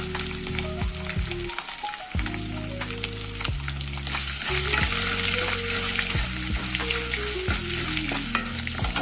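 Mustard seeds and curry leaves fry in hot oil with a loud, steady sizzle and crackle, while a spoon stirs and scrapes the pan in repeated strokes.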